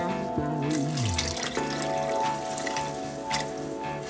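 Tap water runs steadily into a pot while making pasta e fagioli with beef broth in a home kitchen, a continuous close splashing wash with faint hums and clinks underneath.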